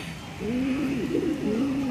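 A pigeon coos in a low, wavering murmur, several soft rolling notes close by, steady and continuous over faint background hiss.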